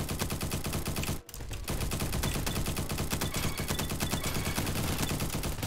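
Galil rifle firing in a video game, a dense, continuous stream of rapid automatic shots with only a brief pause, loud and close throughout.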